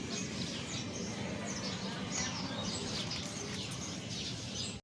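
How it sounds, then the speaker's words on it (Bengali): Soft chirps and cooing from pigeons leaving their loft over a steady broadband background hiss, with occasional faint fluttering; no talking. "এক এক করে কবুতরগুলো বের হইতেছে"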